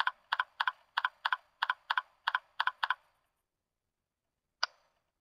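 Rapid keystrokes on a computer keyboard while a diagram name is entered, about a dozen close crisp clicks in a quick run, then a pause and one final isolated click, with no voices.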